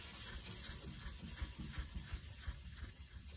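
Fine 0000 steel wool is rubbed over the bumper of a 1965 Dodge Coronet, giving a soft, steady scratchy scrubbing in quick back-and-forth strokes, quiet and close with no talk.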